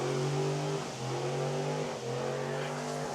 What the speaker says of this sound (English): these trucks are really going off.